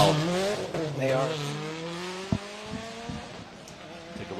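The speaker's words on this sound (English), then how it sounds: "some of the fantastic sounds that these race cars are able to produce" Race cars climb a hillclimb course, one engine rising and falling in pitch as it revs through gears, with sharp pops and crackles, while a commentator talks over the sound.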